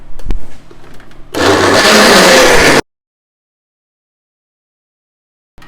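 A blender whirs loudly for about a second and a half after a few clinks, then stops abruptly, leaving silence, while preparing Nigerian beef stew.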